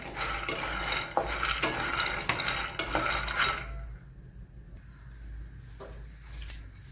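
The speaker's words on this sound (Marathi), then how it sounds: "आपण शेंगदाणे जे आहेत ते गरम करून घेत आहोत" Dry rattling and scraping as peanuts are stirred around a hot pan, then quieter with a few light clinks.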